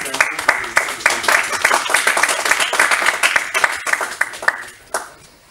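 An audience at a debate conference claps vigorously, a dense run of sharp hand claps that holds steady before thinning out near the end, with voices murmuring underneath.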